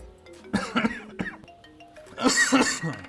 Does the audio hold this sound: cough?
yes